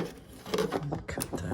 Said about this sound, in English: Got the clippers on there.